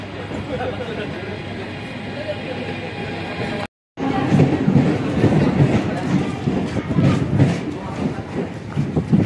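A suburban local train bound for Malavli station rumbles along with a steady mechanical roar and rattling, cutting out briefly before resuming louder with clattering and wind noise.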